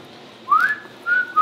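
Person whistling alone outdoors on an Alaska halibut fishing trip: a rising slide, then two sustained clear tones, fairly loud and close, with faint background hiss.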